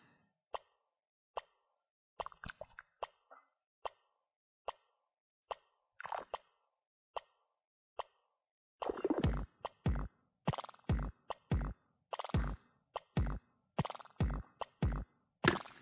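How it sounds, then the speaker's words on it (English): A synthesized bubbly snare built from scratch in VCV Rack, sparse wet plopping hits at first, then a denser rhythmic pattern with deeper thumps joining in, clean and alone without voices. "That kind of like bubbly snare."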